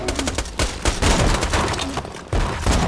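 Rapid, dense gunfire from a weapon in Borderlands 2 rattles continuously, loud and near, with short bursts breaking briefly before resuming.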